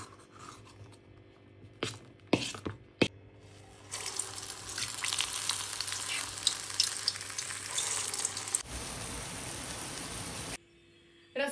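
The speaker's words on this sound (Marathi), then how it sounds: "मी आता उडदाचे वडे तळणार आहे." Urad dal vadas deep frying in oil, a dense loud bubbling sizzle that fills the middle stretch, preceded by a few sharp clicks and knocks and ending abruptly in near silence.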